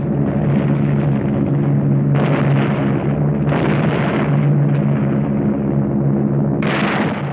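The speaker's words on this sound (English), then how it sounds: "From the air, RAF bombers opened an attack on the Jap positions in the Nagyaduk Pass." RAF bombers attack Japanese positions in the Nagyaduk Pass, with a continuous roar of repeated explosions and bursts swelling in several loud waves over sustained low rumbling.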